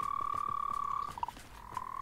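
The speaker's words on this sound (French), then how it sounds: "Des crapauds géants violets." Giant purple toads croak in the Hogwarts Legacy video game, giving a steady high-pitched trill with short burbling notes over a soft rhythmic game ambience, faint and with no talk.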